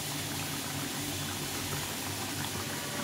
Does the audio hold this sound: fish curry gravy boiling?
yes